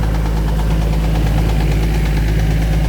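A Komatsu PC200 excavator's diesel engine idles just after starting from a long lay-up, a loud, steady low rumble with a faint knocking vibration running throughout, no voices.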